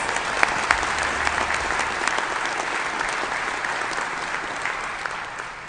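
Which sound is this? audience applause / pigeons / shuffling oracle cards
audience applause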